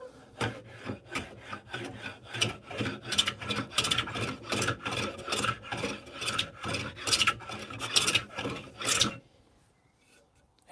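Stanley No. 7 hand plane shaving a fingerboard wood blank, a run of rhythmic rasping strokes, close and crisp, each pass followed by a brief pause, ending in near silence.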